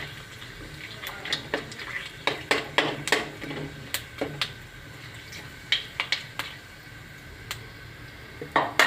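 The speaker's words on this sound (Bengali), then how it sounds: "এটা একটু ভাজা ভাজা করে নিই।" Whole spices (cumin seeds, dried chili, cinnamon and cardamom) fry in oil in a pan, giving a faint sizzle punctuated by sharp, irregular pops and clicks, with a quiet stir now and then.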